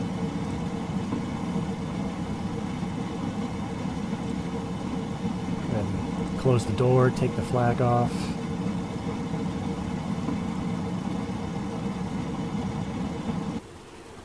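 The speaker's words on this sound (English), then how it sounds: "I finally managed to get the engine started" Engine of a Latécoère 631 flying boat idles steadily in a flight simulator game, a continuous low drone running throughout while a voice speaks briefly over it midway.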